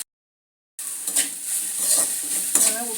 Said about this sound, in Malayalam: ഇനി നമുക്ക് ഇഞ്ചി വെളുത്തുള്ളിയും കൂടെ ചതച്ചതിട്ട് ഇളക്കാം.